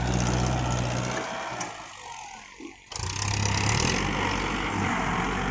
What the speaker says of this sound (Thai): รถไถดันอยู่